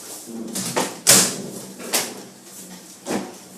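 A microwave oven door shuts on a dish of brownie batter in a home kitchen, giving a few short, close clunks and knocks spread across a few seconds, with no talking.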